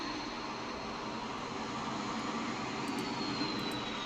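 A Dassault Mirage jet engine spooling up during start-up in the DCS flight simulator, a steady broad roar with a faint high whine, continuous and fairly quiet throughout.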